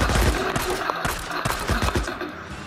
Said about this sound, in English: I'll shoot them